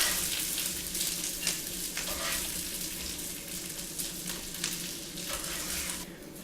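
Food frying in butter in a pan, a loud continuous sizzle with occasional stirring scrapes and crackles, steady throughout with no talking.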